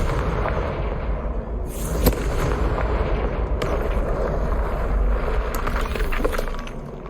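Booming explosive blasts from the Confringo fire spell in the Hogwarts Legacy video game, dense low rumbling with sharp impacts near two and three-and-a-half seconds, loud and continuous throughout.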